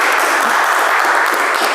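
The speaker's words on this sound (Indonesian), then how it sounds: "Tepuk tangan boleh." Audience applause greeting a blind candidate for Indonesia's national parliament, a steady wash of clapping from many hands, fairly loud and continuous throughout with no pauses.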